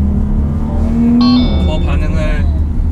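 A Porsche Panamera 4S engine in Sport Plus mode hums steadily and rises briefly in pitch, with someone talking over it partway through.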